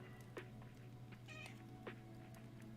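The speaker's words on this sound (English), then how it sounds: "she's meowing at me" A house cat meows softly a few times, short faint calls spaced apart over a steady low hum, with no talking.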